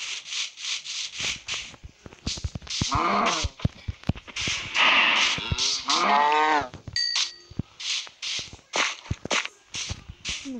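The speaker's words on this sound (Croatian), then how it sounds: "Aha, nije Pigić, nego je krava." A cow in the Minecraft video game lets out a few drawn-out, wavering moos at close range, set among steady rhythmic footstep and tapping game sounds that continue alone before and after.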